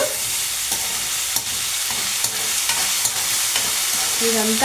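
Purslane curry with ginger garlic paste sizzles and fries steadily in a pan, with soft scraping and stirring throughout and one brief word spoken.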